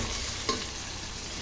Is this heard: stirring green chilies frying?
yes